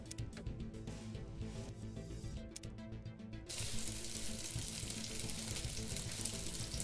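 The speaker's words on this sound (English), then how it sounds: "So we can roast another fish." A fish roasting over a campfire in Morrowind: a steady crackling sizzle runs throughout, growing noticeably louder and brighter about halfway through, with no voices.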